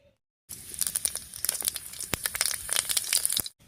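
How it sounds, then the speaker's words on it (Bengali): Panch phoron spices and dried red chillies crackle and sizzle in hot oil, a dense burst of sharp pops and spitting that starts abruptly and stops after about three seconds. "তেল গরম হয়ে গেছে এবারে পাঁচ ফোড়ন আর শুকনো লঙ্কা দিয়ে ফোড়ন দিচ্ছি"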